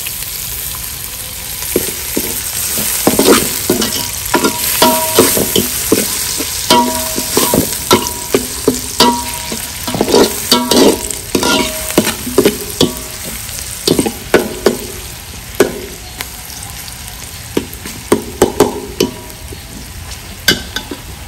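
Country chicken stir-fried without oil in a pan over a wood-fired stove, loud continuous sizzle broken by rapid, repeated spatula scrapes and clanks close up, with no voices.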